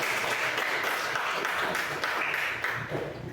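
Classroom applause after a student's presentation, a steady dense patter of many hands clapping at close range for a few seconds, tapering slightly at the end.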